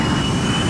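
An aircraft jet engine roars steadily as throttle is added during a landing approach, a dense, loud rumble with broad hiss lasting under a second.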